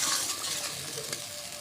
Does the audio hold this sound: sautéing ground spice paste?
yes